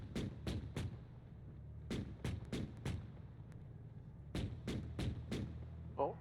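Sharp, evenly spaced blasts sound in groups of three and four over a low rumble. They come from weapons fire during a military amphibious assault game session, which includes a TOW missile launch.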